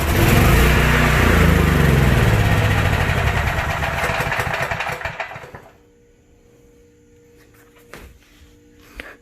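A whole-house standby generator engine runs loud and rough with a steady uneven drone, then shuts down and winds off into near quiet with a few faint knocks afterward.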